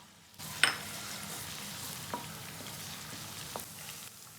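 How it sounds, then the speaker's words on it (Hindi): A teaspoon of grated ginger fries in oil with cloves and black pepper over a medium flame, an even close sizzle that starts abruptly, with a couple of light spoon clinks and no speech. "ग्रेटेड जिंजर हम यहाँ डालेंगे 1 टीस्पून और इसे फ्राई करेंगे 1 से 2 मिनट तक मीडियम फ्लेम पर।"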